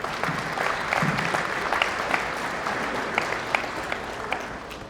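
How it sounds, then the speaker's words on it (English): A breakfast-event audience gives sustained applause for Helen Downey, an even roomful of clapping with scattered crisp individual claps rising above the wash, running steadily throughout. "Once again, another round of applause for Helen Downey."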